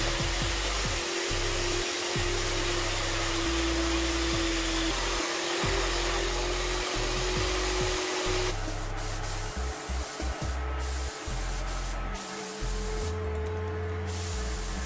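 A wooden bicycle seat cover is sanded with a power sander, a continuous loud hissing roar with low rumbling that shifts in tone partway through, with no voices.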